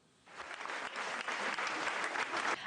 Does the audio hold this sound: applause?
yes